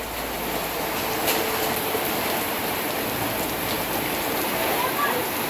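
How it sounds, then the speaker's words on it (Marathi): Heavy rain pours down in a thick, constant roar of drops, unbroken and close throughout. "अगदी रात्रीपासून खूप पाऊस पडत आहेत"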